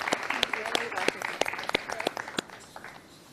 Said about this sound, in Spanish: Un fuerte aplauso, por favor, para la agente Chávez.